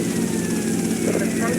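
Helicopter in the video game GTA Vice City, a steady droning rotor and engine roar with a constant low throb, loud and continuous throughout.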